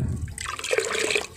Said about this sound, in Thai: แล้วก็จะเติมน้ำประมาณนี้นะท่านผู้ชมน้ำเยอะหน่อยนะคะ